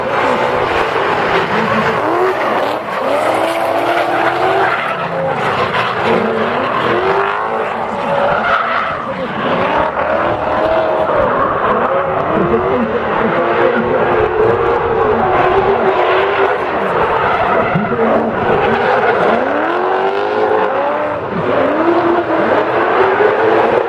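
A green BMW race car at a drifting event roars past close by, engine revving hard with continuous loud tire squeal and skidding, alongside an excited commentator's voice.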